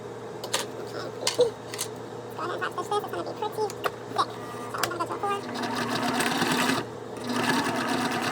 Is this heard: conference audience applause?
no